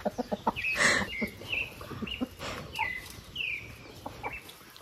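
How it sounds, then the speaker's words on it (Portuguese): Chickens clucking close by in a backyard, a run of short clucks and squawks with a few brighter calls between them and no talk over them. "as galinhas estão tudo ali agora, Bê."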